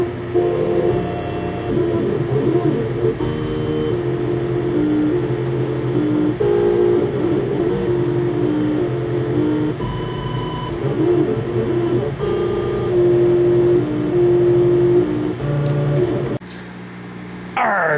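A cutting machine in a factory workshop running at 30% speed gives a loud, steady mechanical drone with shifting tonal whines for most of the stretch, then cuts off abruptly near the end.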